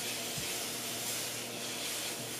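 Konjac noodles dry and sizzle in a frying pan with a steady, close hiss of steam and spatter, broken by a brief low thump near the start and no talking.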